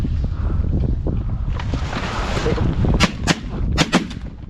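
Several loud shotgun blasts fired in quick succession at mallard drakes during a duck hunt in an ice storm, with wind buffeting the microphone beforehand.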